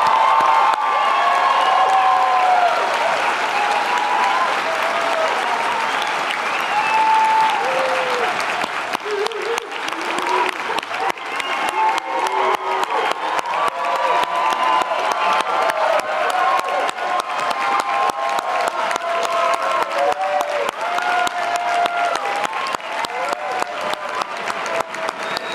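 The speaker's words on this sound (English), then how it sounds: "Let's give everyone one more round of applause to all our graduates" Sustained applause from a large crowd at an architecture school commencement ceremony honouring graduates, loud and dense throughout, with occasional cheers and whoops mixed into the steady clapping.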